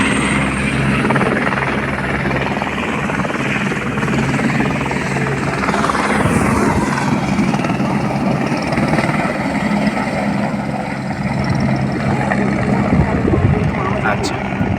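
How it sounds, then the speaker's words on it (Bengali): Helicopter flying past in a mountain setting on the route to Amarnath, a loud steady rotor thrum and whine lasting throughout with a slight swell midway as it passes close, with no voices. "আচ্ছা, হেলিকপ্টার চলে গেল"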